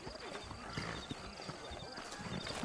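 Horse hooves clip-clop in a Western town in Red Dead Redemption, a steady trotting rhythm mixed with game ambience and a faint whinny.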